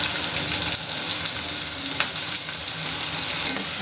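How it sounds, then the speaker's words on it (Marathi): Four large, finely chopped onions fry in a pan for dhaba-style chicken bhuna masala, making a loud, steady close sizzle broken by the scrape of stirring, with no talking. "कांदा आपल्याला छान अगदी परतून घ्यायचा आहे."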